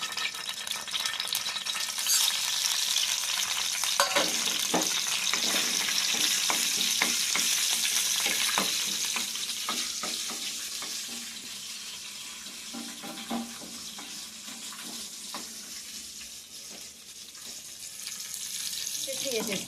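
Curry leaves and cumin sputtering in hot oil for a tempering, a loud continuous crackling sizzle with scattered sharp pops, fading somewhat toward the end while water runs faintly nearby.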